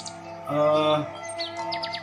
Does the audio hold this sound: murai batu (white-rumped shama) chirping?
yes